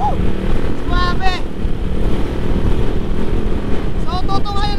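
A boat driven by four outboard motors runs at speed on open water, a loud continuous close engine drone with wind buffeting, while voices call out in bursts over it.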